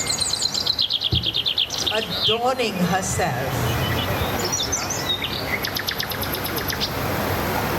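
Birds chirp and trill in a forest, quick repeated high calls in bursts that come and go, while someone speaks over them.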